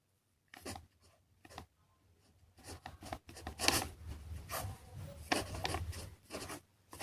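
A pen writes a mantra on paper, giving soft, close scratching and rubbing strokes in short irregular bursts with pauses between them.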